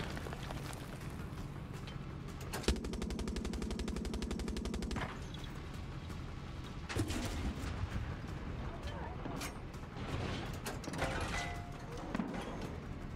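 Gunfire in the video game Far Cry 6, a rapid mechanical burst of automatic fire followed by scattered heavy shots and rumbling explosions over continuous game noise, with some speech mixed in.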